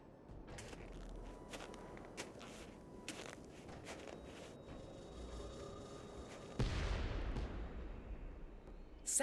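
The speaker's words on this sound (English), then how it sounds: "Sounded like an explosion." A sudden loud blast in a snowy Nancy Drew video game breaks in partway through, a deep rumbling burst that keeps roaring after scattered faint clicks and footstep-like taps.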